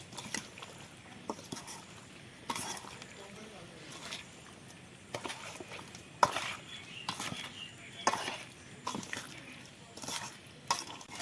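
Fruit being stirred into mango pickle with vinegar, giving wet squelching and scraping stir sounds with occasional clinks against the container, in irregular bursts.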